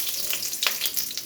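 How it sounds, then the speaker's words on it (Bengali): Black cumin seeds sizzle in hot oil in a wok, a steady, close crackling hiss with small popping bursts, brief and with no talk. "এবার একটু কালো জিরে দিয়ে দেবো তেলের উপরে"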